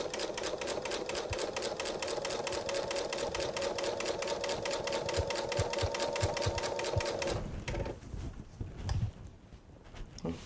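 A sewing machine stitches a jelly roll quilt with a fast, even mechanical chatter that runs steadily for about seven seconds, then stops, leaving faint fabric handling and shuffling.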